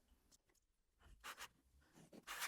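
A pen draws short, scratchy lines across a fabric postcard, several quick strokes in a row, close and quiet with small pauses between them.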